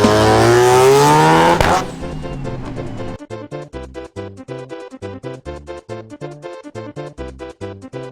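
Cars at a drift track during drift week: a loud, close engine roar with tire squeal bursts out, then gives way to a quicker, rhythmic pulsing drone that continues to the end.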